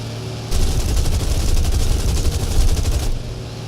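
A boat's guns in the War Thunder video game fire one loud, sustained rapid burst of about two and a half seconds, close and alone, with no voices.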